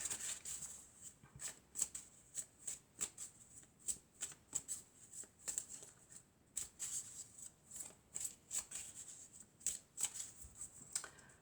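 Oracle cards are shuffled by hand in a quiet room, giving rapid, irregular bursts of soft riffling and flapping that repeat throughout, close and clear, with no talking.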